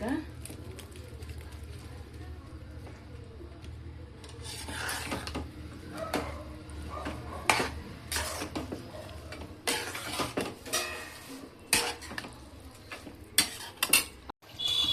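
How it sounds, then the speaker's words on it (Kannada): Fried okra going into a pot of sambar: metal utensils scrape and clatter against the pot in irregular bursts, with stirring and rubbing sounds, close and fairly loud, while a person talks over it. "ಬೆಂಡೆಕಾಯಿ ಹುರ್ಕೊಂಡಿರೋದನ್ನ ಹಾಕ್ತಾ ಇದ್ದೀನಿ"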